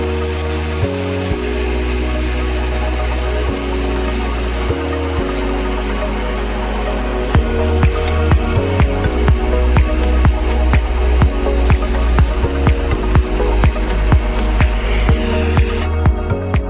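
A 500W pulse laser cleaning machine removes oil stains with a loud, steady hiss and crackle close by. A rapid pulsing texture grows more pronounced partway through.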